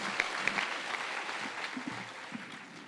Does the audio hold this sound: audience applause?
yes